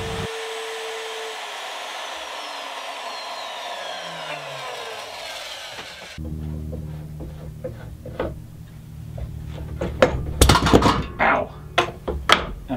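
A router used with a template to cut a shallow recess in a guitar body whines steadily, then spins down with a falling pitch; a few thunks and clattering knocks follow, and a voice talks briefly.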